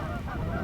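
Geese honking on a partly open winter river, a dense, continuous chorus of overlapping calls close by, with no talk.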